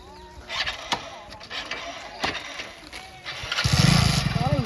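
A motorcycle engine starting: a few scattered clicks and knocks, then the engine catches and settles into a steady, close idle rumble. Background voices come and go.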